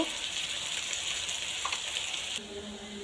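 Onion and salt drop into a hot pan and fry with a steady, bright sizzle that runs loud for a couple of seconds, then quiets abruptly into a softer hiss.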